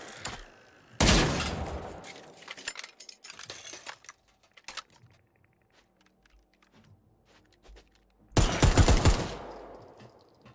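Automatic gunfire in the video game Generation Zero, aimed at tick robots: two loud, dense bursts several seconds apart, separated by quieter clicks and small impacts.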